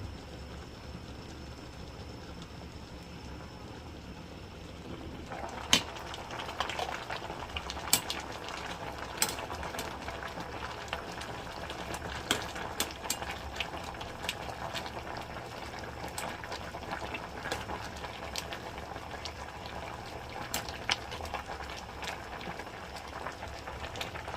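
A pot of sweet potato leaves and vegetables boils and simmers steadily, with a constant hiss of boiling water and scattered small pops and clinks throughout.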